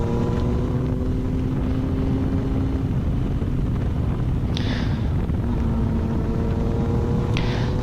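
A Yamaha FJ-09 Tracer motorcycle rides along local roads, its engine holding a steady droning hum under constant rushing wind noise close to the microphone, with no talking.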